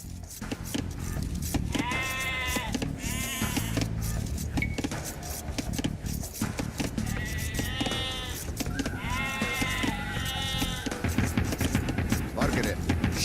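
Sheep herded by villagers in Age of Empires II: Definitive Edition give repeated wavering bleats in short bursts, layered over busy game sounds and a narrating voice.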